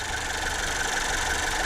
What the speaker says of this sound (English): I'm going to let the engine to warm up